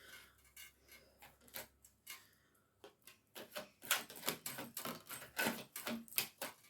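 Tarot cards being shuffled by hand, a run of quick crisp riffling snaps and slaps that grow busier and louder toward the end, close and alone.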